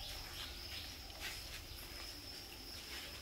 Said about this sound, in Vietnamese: Hôm nay em đang đi ra bắt ít dế rồi đấy.